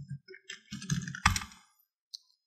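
Keystrokes on a computer keyboard while renaming a layer in After Effects, a few close plastic clicks and taps in an irregular cluster, the loudest press near the middle, then one faint click after a pause.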